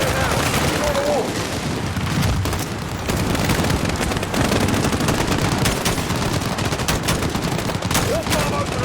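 Sustained gunfire from automatic weapons and rifles at an embassy in the Modern Warfare video game, dense bursts and overlapping shots throughout, loud and continuous, with shouted voices in the mix.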